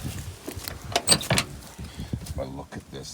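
Door of a 1973 International crew cab Travelette that won't open being tugged and rattled, several sharp clunks and latch clatters close by.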